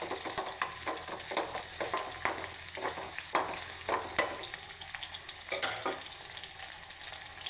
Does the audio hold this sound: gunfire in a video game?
no